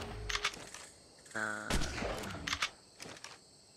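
Gunshots from the Ark Survival video game, several sharp bursts in quick succession with a brief tonal tone between them, moderately loud with a voice nearby.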